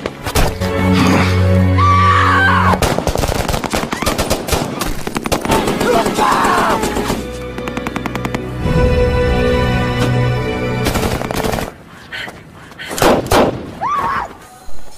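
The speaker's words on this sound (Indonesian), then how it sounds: "Komandan Kovacs pun mencari kesempatan dan berhasil menembak Ahmedzaev" Bursts of automatic gunfire in an action scene from the Special Forces film set in Afghanistan, loud and rapid with dense volleys, sharp impacts and crashes, shouted voices and dramatic music breaking through between shots.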